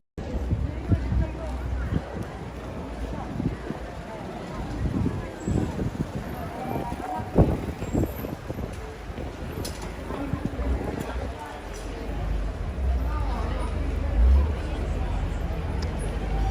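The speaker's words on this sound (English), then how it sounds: "So yeah, there's a little bit of wind." Wind buffets the microphone outdoors on the streets of Florence, Italy, a steady low rumble with gusty swells. It runs under someone talking and the faint murmur of the street.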